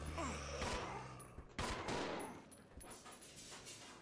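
Gunfire from the video game Resident Evil Zero HD Remaster on PC: a rapid burst of shots and impacts, fairly faint, with a couple of further sharp bangs following in the game's mix.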